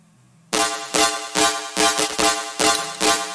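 A stereo-widened bass part with no convolution reverb, a run of about seven loud, punchy pulses with steady rhythmic gaps, dry and up front, no voice.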